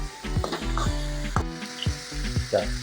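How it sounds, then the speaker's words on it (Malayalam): Kerala hill-style chicken masala fries in a pan with a steady close sizzle, broken by scraping and knocking as a wooden spoon stirs it several times. "ശരിക്കും ഇളക്കുക ഇതാ ഇതുപോലെ ഇളക്കി കൊടുക്കുക"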